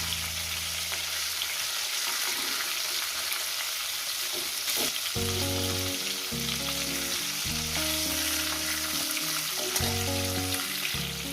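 The rest of the fish pieces for a light potato and fish curry fry in hot oil in a pan, with a continuous close, loud sizzle and occasional stirring noises. No one speaks.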